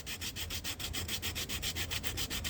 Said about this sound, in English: This is 150 grit sandpaper, so it's fairly fine.